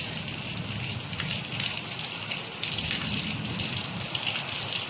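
Monsoon rain falls steadily in the Konkan region, a dense, even hiss of water that holds at the same level from start to finish, with no voices over it.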